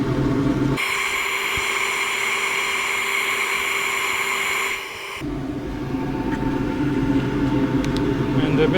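Sandpaper presses against a spinning she oak jewel box on a wood lathe, a steady whirring hum with gritty friction for several seconds before the tone shifts and the motor keeps running.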